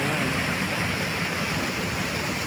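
A river flows steadily at a picnic spot with a sandy bank, its broadband rushing wash filling the whole stretch at an even, fairly loud level with no voices over it.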